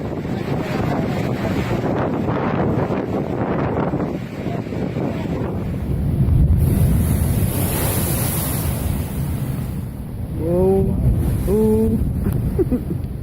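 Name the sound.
large ocean waves crashing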